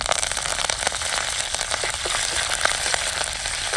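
Curry leaves sizzle and crackle loudly in hot oil with spluttering mustard seeds and garlic, a dense, continuous frying hiss with scattered sharp pops.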